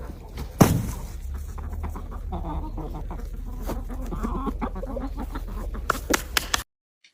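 Hens being given watermelon cluck and call close by, with a sharp squawk near the start and a busy, continuous chatter for several seconds before it cuts off.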